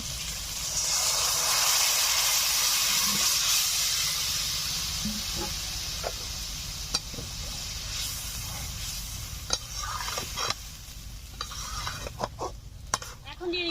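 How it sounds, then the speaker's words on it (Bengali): Broth poured into a pan of spiced rita fish curry, a steady close sizzle and hiss with light stirring and a few sharp utensil clinks toward the end. "এখন ঝোলটা দিয়ে দিচ্ছি"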